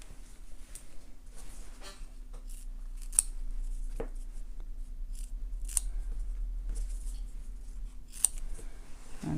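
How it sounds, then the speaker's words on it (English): Scissors snip through small scraps of foam for a handbag sewing project, several distinct crisp cuts spaced a second or two apart, close and clear over a quiet room hum. "I'm going to cut 4 scraps of foam, make them about 1 inch square"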